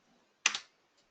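A quick pair of computer keyboard or mouse clicks during a copy and paste, close and crisp in a quiet room, followed by a faint tick.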